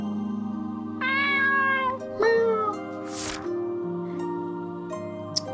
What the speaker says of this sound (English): Pet the cat.